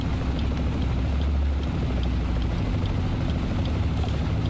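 A helicopter in American Truck Simulator gives a steady, loud low rumble and whir that holds without a break and stays close throughout.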